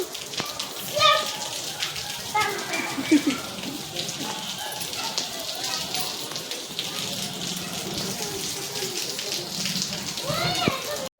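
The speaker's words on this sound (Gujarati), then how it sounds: "અત્યારે તમે જોવો છો વરસાદ આવે છે" Unseasonal rain falls in a steady patter, a continuous hiss and drip running underneath children's playful voices and speech, fairly close and moderately loud throughout.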